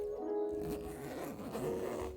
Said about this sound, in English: there are two main zips on each side of the bag. Open each one up and it will expose the main body of the bag